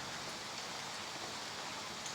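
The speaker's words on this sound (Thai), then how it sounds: "ระยองนะระยองตอนนี้ฝนตกจังเลย" Evening rain falls steadily in Rayong, Thailand, a dense, even hiss of drops on surfaces that holds constant throughout with no talk over it.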